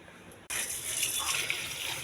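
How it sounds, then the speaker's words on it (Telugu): Running tap water gushes onto grapes being washed in a bowl, starting abruptly after a short quiet hiss and then continuing as a steady close splashing rush, with no talking. "ట్యాప్ కింద ఎత్తి 2-3 సార్లు కడగాలి వాటర్ వేసి."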